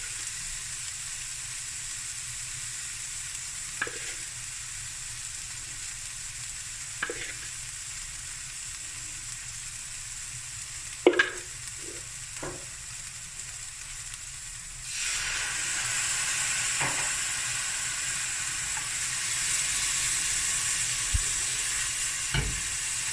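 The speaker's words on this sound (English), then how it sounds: "And now we're just going to fry and cook through the spices nicely." Masala spices frying in a pan for dhal curry, a steady hiss with a few sharp clinks and scrapes of stirring, louder sizzling rising midway and holding, no voices.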